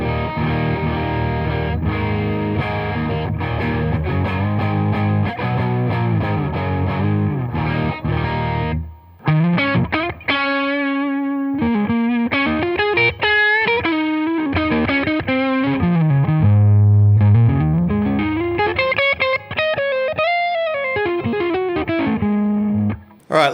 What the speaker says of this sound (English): it actually sounds like I've rolled the tone completely off.